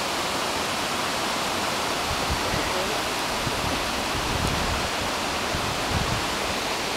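Runoff from Bridal Falls near Agassiz, BC pours down in a dense, steady rushing roar of water that fills the whole stretch at constant loudness, close by and uninterrupted.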